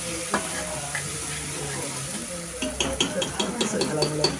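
Onions sizzle in a hot pan during home Marathi cooking, a steady close frying hiss that takes on scraping, clinking stirs toward the end.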